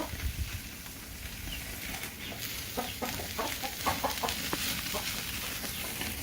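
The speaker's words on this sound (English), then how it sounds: "So the chickens are going crazy over here" Chickens on a farm clucking excitedly, a busy flock of overlapping clucks and squawks over steady outdoor background noise.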